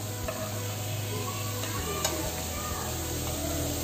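Slices of elephant foot yam fry in a pan with a dense, continuous close sizzle, with a few light taps and one sharp click midway and no voices.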